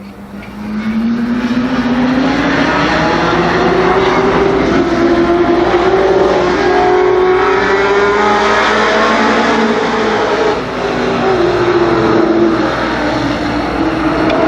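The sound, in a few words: late model race cars at speedway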